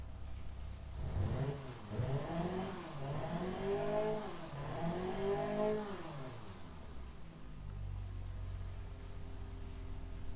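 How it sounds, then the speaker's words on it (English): A small four-cylinder BMW engine of about 196 horsepower starting in the Automation car-building game, then revving in several rising and falling sweeps before settling to a steady idle, close and alone. "I can change it to this mode and start the engine up."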